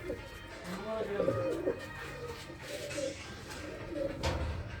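Pigeons coo in a loft with plywood nesting boxes, soft repeated throaty calls at moderate distance, heard beneath someone talking throughout.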